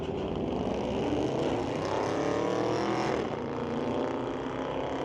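A 2015 Dodge Hellcat and a Challenger drag race at Mission Raceway Park, a loud, continuous engine roar with rising gear-change sweeps and a passing-by swell near the end.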